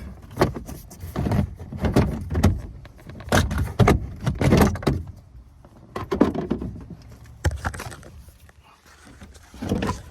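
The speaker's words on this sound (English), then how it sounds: "Taking this shifter console off." Interior trim and shifter console being pried and pulled out of a 1997 Honda Civic hatchback, a run of close, sharp plastic clunks, rattles and jangling knocks in irregular bursts with short pauses between them.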